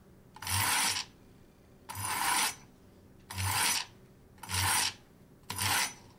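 Kitchen knife drawn through a Chef's Choice Edgecraft sharpener at stage 1: five even, close, rasping strokes about a second apart, each a bright scraping grind, with no talk.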